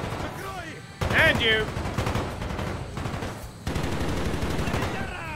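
Call of Duty: Black Ops gunfire crackles in rapid automatic bursts, loud and close, running almost continuously under brief talk and game sounds.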